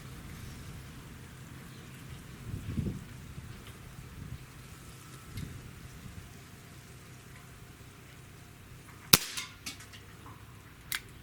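A single sharp crack from a Smith & Wesson 686 air revolver in carbine configuration firing a match pellet at a target, with a brief ringing tail and a fainter follow-up click, against a steady background hiss.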